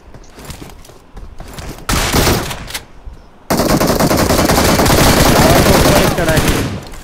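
Rapid automatic gunfire in the mobile battle royale game BGMI, bursts of loud close shots that start sporadically and then become a sustained heavy barrage for several seconds.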